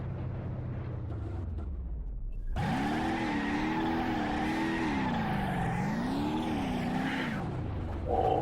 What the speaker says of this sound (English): Wonder, can it do a burnout?